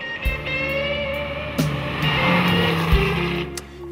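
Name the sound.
Porsche 911 Turbo accelerating at full throttle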